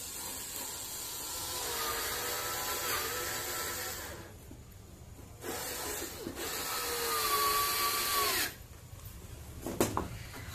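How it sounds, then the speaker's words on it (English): A screwdriver machine drives screws into a plastic sheet and fiber board in long continuous whirring runs, broken by two short pauses and a final quick burst, close and steady with no talk. "a normal screwdriver machine for fixing the screws onto this plastic sheet and fiber"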